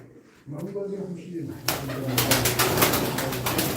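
Soft cooing of pigeons at first, then a burst of rapid fluttering wing flaps close by.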